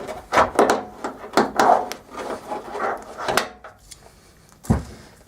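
A screwdriver pries a metal clip out of a Ford Focus tailgate, producing a cluster of close scraping and clicking metallic rubs, then a short pause and one final sharp knock.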